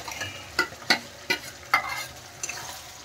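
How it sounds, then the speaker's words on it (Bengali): Spinach paste stir-fried with spices in a pan for palak paneer: five distinct spatula scrapes and knocks over a soft, low sizzle, close by and moderately loud, no speech. "পালং শাকের পেস্টটা দেওয়ার পর আরেকটু কষিয়ে নেব আমি"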